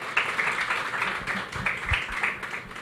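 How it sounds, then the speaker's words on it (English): Audience applause welcoming a panelist at a live dialogue event about girls in ICT, a short burst of scattered hand claps at moderate level with a few louder individual claps. "Please let us welcome Ms. Finch with a round of applause"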